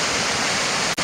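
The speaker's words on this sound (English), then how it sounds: "it's a pretty active river." The Vermilion Chutes river rushes in a steady, loud broadband roar of fast water from close by, with no speech and a brief dropout just before the end.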